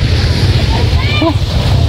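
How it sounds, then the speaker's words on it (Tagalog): Steady roar of surf and wind at the shore, with a faint voice briefly audible in the background. "Yan, ang dagat."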